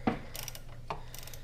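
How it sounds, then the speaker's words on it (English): A ratchet tightens the crank pulley lock bolt on a Mazda Protege, giving a few short, close metallic clicking bursts with no voices. "we're going to tighten up our lock bolt here"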